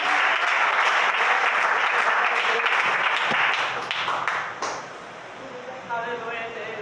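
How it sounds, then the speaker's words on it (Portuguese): A church congregation claps together for Jesus, loud dense applause that keeps going for several seconds and then thins into scattered claps. "A igreja pode bater as palmas para Jesus."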